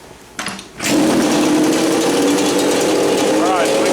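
A Yamaha Banshee ATV engine, set up with seasonal pilot and main jetting changes, cranks briefly, catches and settles into a loud, steady, buzzing fast idle close by.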